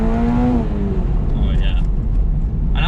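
A Toyota GR86's four-cylinder engine and exhaust hum steadily close by, with a brief rising pitch early on, running under continuous talking.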